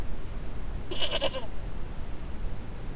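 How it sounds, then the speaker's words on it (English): A goat gives one short, clear bleat, about half a second long, heard alone against a quiet background rumble. "That was a goat."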